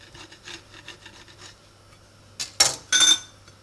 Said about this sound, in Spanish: En este caso lo vamos a cortar así.